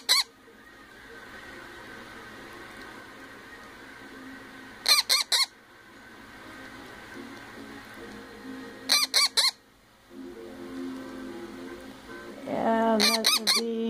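A 4-week-old Indian Ringneck parrot chick gives three short clusters of shrill, squeaky begging calls while being hand-fed, close and loud against a quiet room, followed by a longer burst of squawking at the end.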